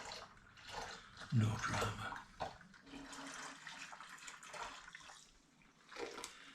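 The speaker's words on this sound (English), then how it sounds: "I'm going to pour this into the Muntons wine fermenter too. Now this might go everywhere because this pan's a bit drippy." Rhubarb cider is poured slowly from a drippy pan into a Muntons wine fermenter, a splashing trickle of liquid that swells and fades in uneven bursts, with a brief spoken remark.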